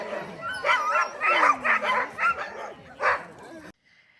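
Sled dogs in Norway bark, yip and whine excitedly in a rapid, overlapping chorus nearby, with one drawn-out whimper among the bursts before the noise abruptly drops away.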